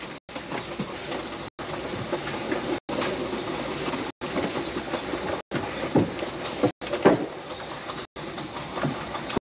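A train rumbles and rattles steadily with rolling clatter along the rails, a continuous mid-level rumble broken by short gaps, in a 1940s Sherlock Holmes scene.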